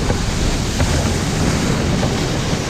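Heavy ocean swell at sea heard from aboard an FPB 78 motor boat, a loud, continuous rush of water and wind buffeting the microphone, steady and unbroken with no talk.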